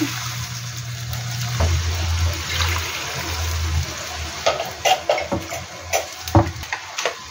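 Water poured into a pan while cooking sotanghon (glass noodles), a steady pouring rush at first, then splashes and clinks of pan and utensil, with no speech.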